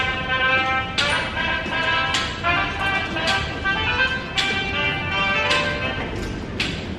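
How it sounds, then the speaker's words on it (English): Subway train moving through an underground station, a steady rumbling roar with bright tonal whines and periodic clattering bursts about once a second, loud and continuous throughout. "that's the sound of the underground"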